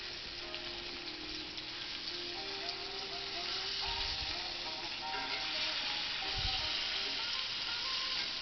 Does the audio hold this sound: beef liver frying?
yes